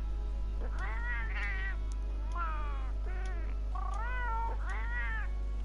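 A cat character's voice from Monster Hunter World, heard as a run of five or so meows, rising and falling and spaced unevenly, clear and close over a steady low hum.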